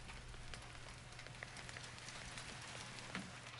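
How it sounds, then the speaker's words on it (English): Steady rain falls in the Texas Chainsaw Massacre video game, a soft, continuous hiss of drops with occasional faint patters, with no talk. "Okay, it's raining."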